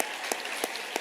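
An audience at a high school awards ceremony gives a round of applause to honor-roll students. The steady wash of clapping is broken by a few sharper, nearby claps.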